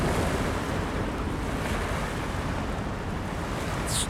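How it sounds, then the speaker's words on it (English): Waves washing in steadily on the River Thames foreshore with a rising tide, a continuous broadband rush of surf mixed with wind buffeting the microphone, close and fairly loud throughout with no talking. "The waves."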